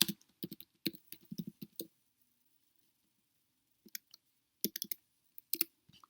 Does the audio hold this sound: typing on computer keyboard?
yes